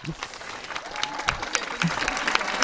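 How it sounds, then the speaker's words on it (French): An audience at a dance competition claps steadily in a room, a dense patter of applause with a voice talking over it now and then. "bravo à vous, bravo, on va les applaudir bien fort"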